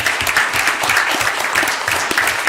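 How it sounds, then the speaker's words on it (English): A round of applause from the audience at a city board of directors meeting, with steady, lively clapping that carries on throughout at close range. "Y'all give them a round of applause"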